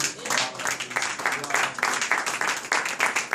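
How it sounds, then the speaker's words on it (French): A church congregation claps along in a quick, pulsing rhythm, fairly close and moderately loud, with voices mixed in among the beats. "Applaudissez pour la parole de Dieu"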